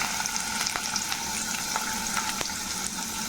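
Finely chopped ginger and curry leaves fry in two tablespoons of oil, a dense, even sizzle close by, with a few light clicks of a spoon stirring the pan and no voices.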